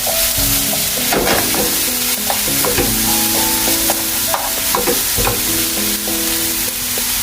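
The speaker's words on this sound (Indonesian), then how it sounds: "Oke, aduk kembali ya." Mushroom stems being stirred in a frying pan, a utensil scraping and clanking against the metal in irregular strokes over a steady sizzle, close and loud with no talking.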